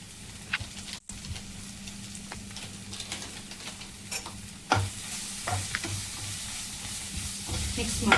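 Chili powder and coriander powder are stirred into a frying paneer gravy in a pan, with a steady sizzle, scraping spoon strokes and occasional knocks against the pan. The sizzle grows brighter and louder toward the end.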